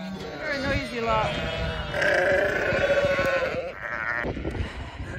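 A noisy flock of ewes and lambs on a farm at lambing time bleats almost continuously, with loud overlapping cries near at hand and some grunting.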